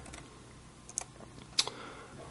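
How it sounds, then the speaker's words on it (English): Fingers typing on a computer keyboard to enter a command, producing a short run of close, light key taps with a couple of sharper strikes, no voices. "I'm just going to type it in for what I have anyways"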